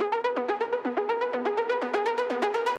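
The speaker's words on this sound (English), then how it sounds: "I modified it quite a lot to make it more of an arpeggiator sound" A fast, bright synthesizer arpeggio in a melodic techno style cycles steadily in quick repeating notes, with a buzzy tone and pulsing rhythm, played alone.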